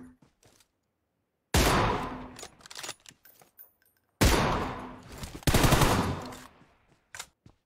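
Two loud bursts of automatic gunfire in PUBG Mobile, with scattered single shots and faint clicks between them, close and with no talk over it.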